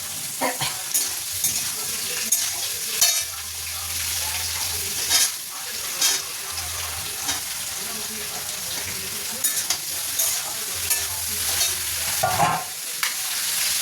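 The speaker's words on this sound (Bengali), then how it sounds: "এখানে তো ফুলকপি ভাজা হচ্ছে" Cauliflower frying in a pan: a steady, close sizzle with repeated stirring scrapes and utensil clinks, plus a low background hum.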